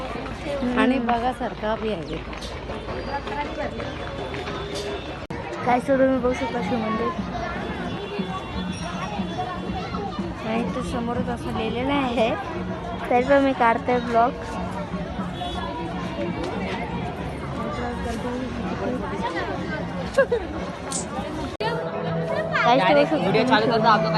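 A crowd fills a busy Shiva temple with dense, continuous chatter and many overlapping voices, a steady hubbub throughout with occasional louder nearby speech.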